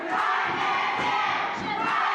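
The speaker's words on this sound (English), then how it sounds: "listen to that crowd cheer for Dan" A dense crowd at a pro wrestling show roars and cheers continuously, loud and enveloping, with shouts blending into a steady wash of noise.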